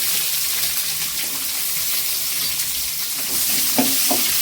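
Garlic and small shallots sauté in a pan for a traditional jackfruit kootu, a continuous near sizzle with light stirring and a couple of sharp clinks near the end.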